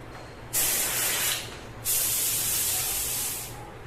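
A paint spray gun blown out with thinner during cleaning gives two long, loud bursts of hissing air, the second lasting longer, with short quiet gaps between and no talking.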